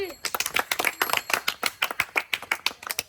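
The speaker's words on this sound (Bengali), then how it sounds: "খুশি হাততালি দাও" Children clap their hands at a prize-giving during a clay-pot-breaking game, a brisk, uneven burst of many close claps lasting about three seconds.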